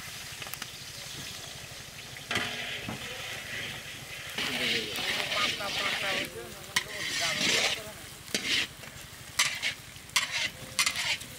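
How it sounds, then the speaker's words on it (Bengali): Onion dropped into hot oil, with small carp fish frying nearby, crackles and sizzles in bursts punctuated by sharp stirring scrapes, while someone talks intermittently over the cooking. "তেল গরম হয়ে গেছে, পেঁয়াজটা দিয়ে দিলাম"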